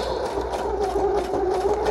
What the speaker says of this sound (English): you don't want your sewing machine choking up on you